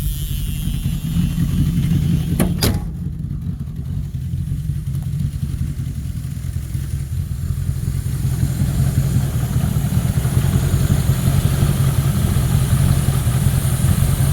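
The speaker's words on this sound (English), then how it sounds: "And she's got an exhaust leak on her." A car engine with an exhaust leak idling steadily with a rough, puttering rumble throughout; a brief sharp click occurs early on.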